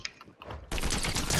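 Gunfire in the video game Fortnite: a few scattered shots, then a dense continuous burst of rapid automatic fire that stays loud to the end.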